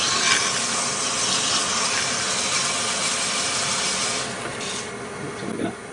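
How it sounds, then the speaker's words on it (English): Abrasive sandpaper rubbing against a spinning wood turning on a lathe during final finishing, a steady close broadband rasp and hiss that runs unbroken and eases slightly near the end. "This is the final finishing on it. Let's go ahead and sand it a little bit."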